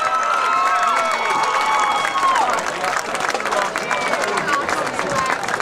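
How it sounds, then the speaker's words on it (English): Stadium crowd at a high school marching band performance gives a sustained round of applause and cheering, broad and steady throughout, with crowd babble mixed in. "How about one more big round of applause for Pine Ridge Marching Panthers?"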